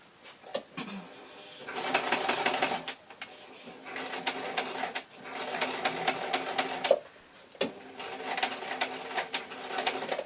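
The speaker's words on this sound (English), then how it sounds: "then I'm going to start sewing again" A sewing machine runs in several rhythmic bursts with brief pauses, stitching elastic onto a fabric book-jacket tablet case, close and clear with no talking.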